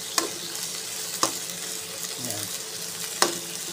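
Pork steak sautéing in a pan, a steady broad sizzle with a few sharp stir or utensil clacks spaced through it, fairly close, with a brief word spoken over it.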